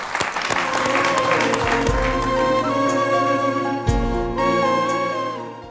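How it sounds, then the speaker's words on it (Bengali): A studio audience at a Bangladeshi TV talk show claps for a group of young travel girls: sustained, dense applause over a tonal musical bed, fading out at the end. "ভ্রমণ কন্যাদের জন্য একটা তালি হোক নাকি"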